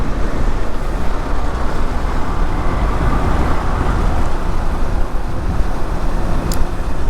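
A motorcycle ridden slowly on the Bogura–Dhaka–Rangpur highway in Bangladesh, captured by a helmet camera as a loud, continuous roar of engine and wind rumble with no break throughout.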